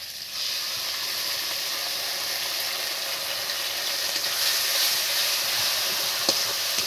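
Ground onion paste sizzles in hot oil in a pan while a potol chingri curry is cooked, giving a steady, even hiss that holds for the whole stretch with no talking.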